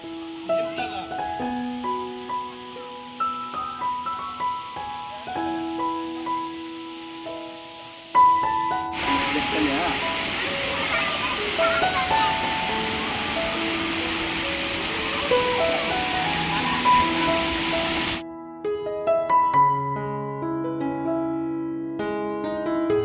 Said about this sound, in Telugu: పైన ఎంత పైన నుంచి వాటర్ అనేది ఫ్లో అవుతుందో చూడండి